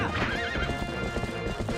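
Horse hooves galloping in Zelda: Twilight Princess on GameCube, a fast continuous clip-clop with a brief whinny over busy game music and effects.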